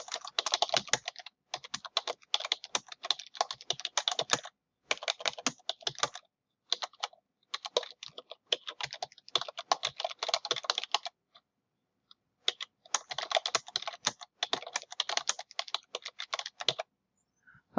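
Fingers type quickly on a computer keyboard, in rapid clattering bursts of keystrokes separated by short pauses, close and clear, with no one talking.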